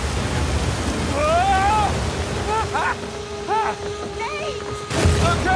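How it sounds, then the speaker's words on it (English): Roaring waterfall in the video game Uncharted 4, a steady broadband rush of falling water that lasts the whole stretch, with raised voices and shouts heard over it. "Waterfall!"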